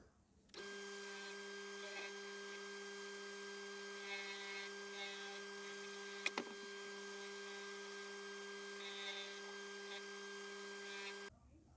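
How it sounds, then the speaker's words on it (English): Wooden natural slingshot being finish-sanded on a spindle sander, a steady droning machine hum with a bright tonal whine running continuously and evenly, with one brief sharp knock midway. "Now we're going to go on to finish sanding."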